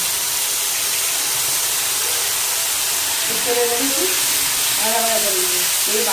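Onion and tomato paste fries in a pan for a banana-flower kofta curry, giving a loud, constant close sizzle and hiss, with a voice speaking briefly over it toward the end.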